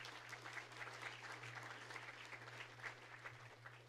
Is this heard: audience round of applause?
yes